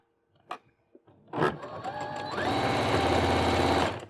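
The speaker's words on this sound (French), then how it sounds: "Donc je couds bien au bord du tissu, 1 cm de marge de couture." A sewing machine stitches close to the edge of the fabric for a hooded scarf. A few clicks and handling sounds come first, then a short burst of stitching, then a steady, loud mechanical whir that runs to the end.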